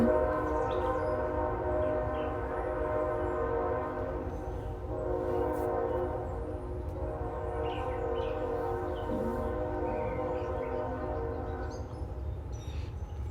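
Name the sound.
passing train with horn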